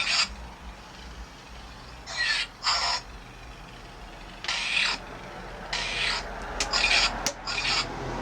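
A WANARICO heavy dueling lightsaber on its Luke Skywalker sound profile gives off several short, bright buzzing swings and clashes in separate bursts over a low steady hum, close and fairly loud, with no talking.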